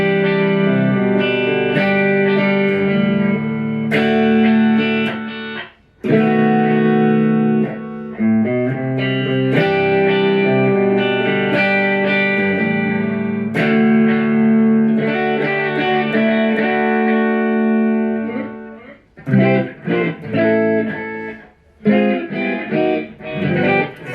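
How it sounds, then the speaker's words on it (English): An Epiphone Flying V electric guitar played through its neck pickup rings out loud and alone with effects, strummed chords and sustained notes giving way to choppier picked phrases near the end. "we're currently on the neck pickup, and let's have a listen to the variety of tones"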